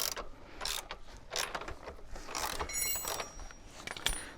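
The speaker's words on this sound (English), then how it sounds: "So loosen off the 27mm nut on the left hand side." A ratchet or spanner loosens the 27mm axle nut on a Surron Ultra electric dirt bike, producing close, irregular clicks and metallic scrapes in short bursts, some louder than others.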